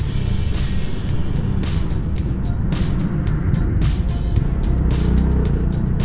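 A CFMOTO 300NK motorcycle engine hums steadily while riding in fifth gear at about 4,500 rpm, loud and close, with repeated bursts of wind noise sweeping over it.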